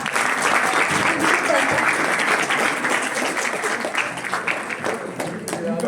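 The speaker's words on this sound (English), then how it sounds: "Clap for them." Sustained applause from an audience at a school self-governing day event, dense steady clapping filling the whole stretch with crowd noise, fairly loud and close throughout.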